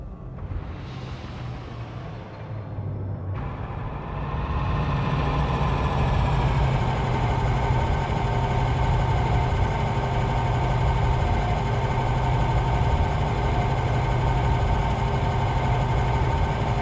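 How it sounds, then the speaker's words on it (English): Lakon Type 6 trade ship engines in Elite: Dangerous, a steady low rumbling hum that swells louder after a few seconds and holds as a continuous drone with no talk. "Ship released. Engines engaged."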